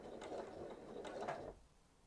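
A sewing machine puts in a couple of forward stitches on a hanging storage pocket project, a soft mechanical whirring with ratchety clicks that stops abruptly near the end, quiet and close.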